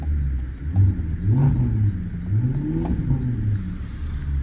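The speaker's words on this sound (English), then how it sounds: "I'll just give it a quick rev." A 2010 Maserati GranTurismo 4.7 V8 S automatic revved briefly while stationary, its deep exhaust rumble rising and falling twice in quick blips, loud and close with no talk.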